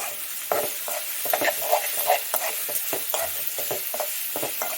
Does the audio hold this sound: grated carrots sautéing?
yes